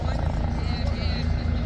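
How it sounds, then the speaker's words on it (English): Military helicopter passing over an outdoor Special Olympics opening parade at West Point, a steady low rotor rumble and whine held at an even, fairly loud level throughout. "we're going to get a flyover by this helicopter"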